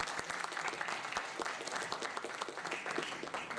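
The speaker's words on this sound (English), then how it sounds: "So please, another round of applause to Dr. Mohan." Conference audience applauds a speaker at the end of a talk, steady dense clapping throughout at moderate level with no voices over it.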